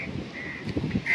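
Crows cawing near a spot where stray dogs are being fed, a few short harsh calls rising over a steady outdoor background, fairly close.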